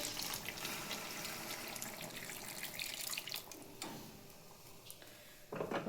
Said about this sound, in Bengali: মাংসটা কষানো হয়ে গেছে যে জল দিয়ে দিচ্ছি